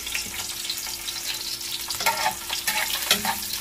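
Garlic sautés in hot cooking oil for papaitan, crackling and sizzling continuously up close, with frequent stirring clatters and spatters that grow busier toward the end.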